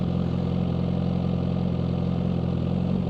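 Suzuki GSX-R1000R 1000cc sport motorcycle engine idling in a steady, loud, even drone close by, holding without revs or pauses, with no talking.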